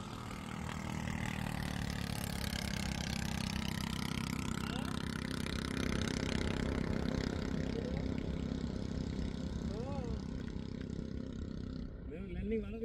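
A small homemade aircraft engine built by a hobbyist in Manikganj runs steadily at a low, throbbing drone, loud and continuous throughout. Toward the end, voices can be heard over the engine.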